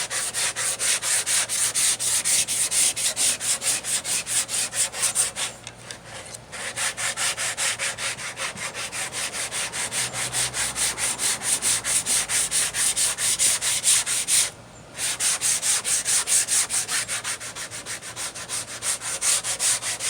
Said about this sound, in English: I'm doing sanding the Bondo right now with 80 sandpaper.